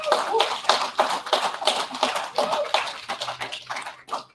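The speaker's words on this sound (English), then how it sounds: "Please, if we can just give them a round of applause" An evening audience at a local government candidates' event gives a round of applause, many hands clapping in a brisk, uneven patter that thins out toward the end.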